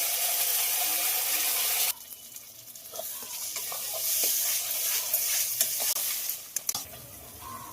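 Spice paste with red chilli and cumin powder frying in a pan for a paneer dish, a loud hiss that drops as the paste goes in, then a quieter sizzle with repeated scraping stirs and a few clatters.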